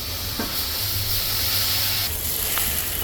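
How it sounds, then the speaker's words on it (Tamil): A steady loud sizzling hiss from onion uttapam batter poured onto a hot pan carries throughout, with a low hum beneath and no talking. "இப்போ ஊத்தப்பம் தான் ஊற்ற போகிறேன் ஆனியன் ஊத்தப்பம்"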